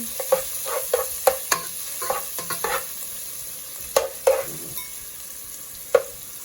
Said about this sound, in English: I'm gonna start off with sauteing about 3/4 of onion, 1 onion